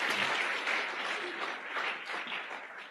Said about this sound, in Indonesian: Tepuk tangan untuk Tiansi dan One Vision.